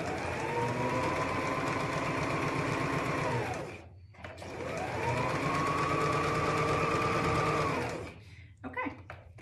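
A sewing machine chain-stitches two pieces of a child's hat together in two long, steady runs, loud and close, with a short pause between and a few clicks at the end.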